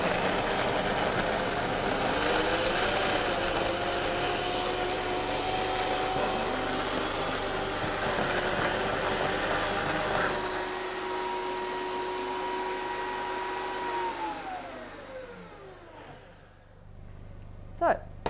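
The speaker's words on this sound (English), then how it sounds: "We just need to blend it all the way until it's nice and smooth." A blender purees soaked cashews and vanilla into cream, its motor whirring loudly and steadily close by, then winding down in pitch and stopping near the end.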